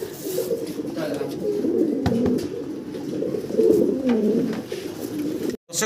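Fancy pigeons in a Bangladeshi pigeon seller's loft coo steadily in low, throaty bursts, with several birds overlapping close by and a brief cut near the end.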